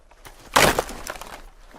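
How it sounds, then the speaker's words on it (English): Chair broken by foot: a single sharp cracking, splintering impact of wood, loud and brief, followed by a few smaller rattling debris sounds, alone without talk. "Monsieur Jondrette broke the chair with his foot"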